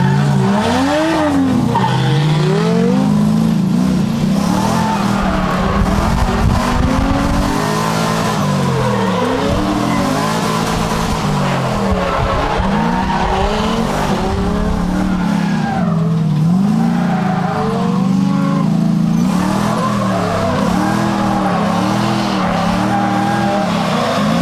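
Drift cars hot lap an oval track, engines droning and rising and falling in pitch while tires squeal and skid through the turns, loud and continuous with no speech.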